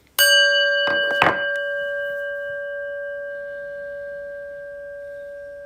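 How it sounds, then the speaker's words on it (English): A prayer bell is struck once to open a meditation, ringing with a clear pure tone that sustains and slowly decays over several seconds after a brief soft knock. "and we'll listen to the prayer bell"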